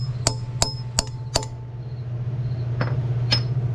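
Four sharp metallic hammer strikes on a bolt ring out in a quick, even rhythm while fitting a new clutch to a big block Honda Civic, followed by two more spaced hits over a steady low hum.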